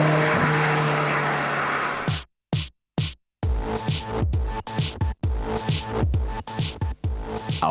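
A Melkus RS 2000 mid-engine sports car with a 1.8 litre supercharged engine, first droning steadily, then cutting off and blipping in sharp repeated bursts, like quick gear changes or throttle stabs, loud and close with no talk.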